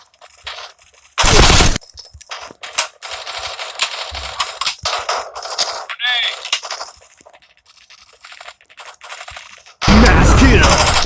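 Gunfire in the mobile shooter Forward Assault on Android, with two very loud bursts of automatic fire at start and end framing a stretch of quieter in-game shots, clicks and effects.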